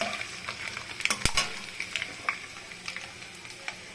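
Peas, beans and peanuts frying in a mixed vegetable curry hiss and crackle close by, with a couple of sharp knocks from a utensil against the pan.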